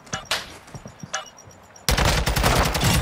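A buffed gun in a video game fires a few separate shots, then a loud, dense, continuous burst of rapid automatic fire.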